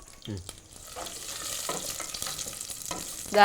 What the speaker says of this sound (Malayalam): അപ്പൊ നെയ്യിലാണ് അണ്ടിപ്പരിപ്പും മുന്തിരിയും വറുത്തെടുക്കുന്നത്